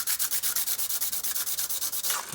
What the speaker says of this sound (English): I took my clips and sanded them down. Just ran them on the sandpaper.